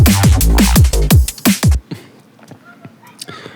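A chopped, resampled neurofunk bass sound fires off quick, loud, vocal-like growling stabs for under two seconds, then drops away to a faint, sparse tail.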